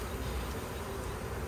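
Honey bees buzzing in a small APIMAYE hive being expanded into a 7-frame nuc, a steady close drone with no pauses throughout.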